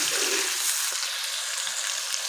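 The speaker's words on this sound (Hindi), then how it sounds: "हमारे पास ये 2 प्याज कटी हुई है, ये भी इसमें डाल देंगे। अब अच्छी तरह इनको मिक्स कर लीजिए।" Two chopped onions sizzle in a pan of hot oil for aloo gobhi while they are mixed, producing a continuous close hiss with faint stirring sounds and no voices.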